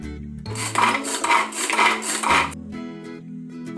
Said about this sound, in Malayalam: അപ്പോൾ ക്യാബേജ് ഞാനിതുപോലെ ചോപ്പറിനകത്തൊന്ന് ചോപ്പ് ചെയ്തെടുക്കുകയാണ്.